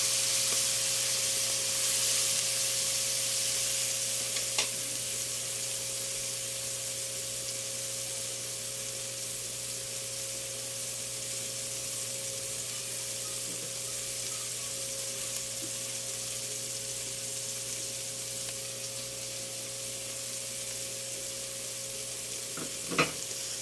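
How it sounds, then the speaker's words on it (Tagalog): Steady hum and faint bubbling of a small aquarium pump running in a kitchen while vegetables cook in coconut milk, a constant low drone with a few soft clicks, no talk. "Ngunit mayroon po kayong maririnig na sound. Ayun po yun sa maliit na aquarium."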